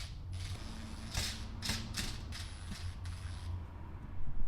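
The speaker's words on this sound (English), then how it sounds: "get this nice and mounted using the screws provided by our speakers" Screws being driven to fasten a rear speaker into its factory mount in a Chevy Camaro, with a series of close creaks, clicks and ratcheting bursts that come in uneven spurts over a low hum.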